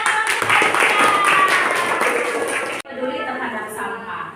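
Classroom of pupils clapping together for a few seconds, a brisk burst of hands that cuts off abruptly into quieter room sound with talking.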